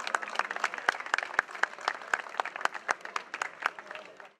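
A crowd applauds a cycling race rider at a stage finish in Saint-Pol-de-Léon, Brittany, with moderate, somewhat sparse clapping and distinct individual claps standing out.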